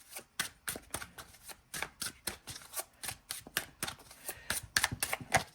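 Oracle cards are shuffled by hand in a quick series of close, crisp riffling slaps and flutters, irregular bursts repeating over several seconds with no voice.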